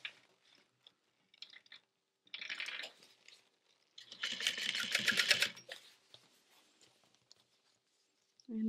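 A sewing machine stitching a backpack side panel in short bursts, a quick rapid rattle of the needle that stops and starts, with quiet handling noises between runs and no talking.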